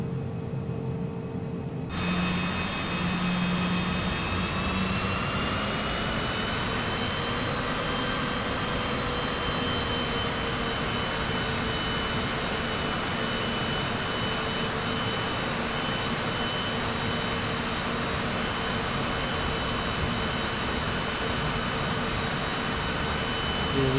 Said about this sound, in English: Alright folks, we are clear for takeoff. We're getting out of here and in the air in just a minute.